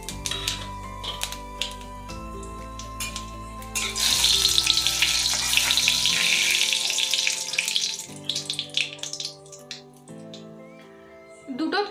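Bay leaves, a dry chilli and five-spice hitting hot oil over lowered gas: a burst of loud crackling sizzle that fades, framed by quieter kitchen sounds and a tonal background.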